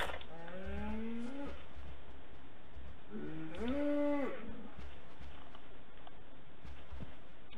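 Enchanted golden cows in a survival video game give two drawn-out moos a few seconds apart, rising and falling in pitch, over a constant hiss of game ambience.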